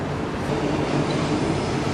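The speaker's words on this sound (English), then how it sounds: "They have trains." A train passing in Brisbane, Australia, a steady broadband rumble and rattle of rail cars rolling by nearby, continuous and fairly loud throughout with no voices.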